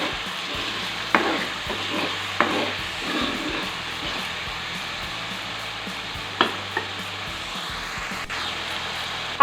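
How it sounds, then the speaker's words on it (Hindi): Spices roast in a pan for chicken malai handi, with a soft steady sizzle and occasional scraping knocks from stirring, close by and without speech. "पहले इन मसाला जात को अच्छी तरह से भून लेंगे।"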